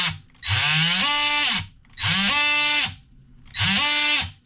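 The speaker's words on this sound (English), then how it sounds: "You can see how it oscillates. It moves side to side." A Ryobi 18V oscillating multi-tool runs in three separate bursts, each a loud, close, high-pitched whine that starts, holds for about a second and then winds down, with short pauses between bursts.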